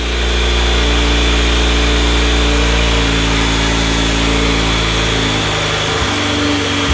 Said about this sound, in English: the motor's warming up